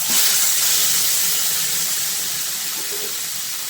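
Boiled, drained taro greens hit a hot pan of lightly fried coconut, setting off a loud, continuous steamy hiss that fades slowly over a few seconds.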